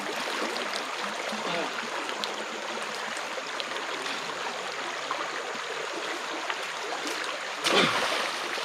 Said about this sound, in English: This is traversing a creek channel now.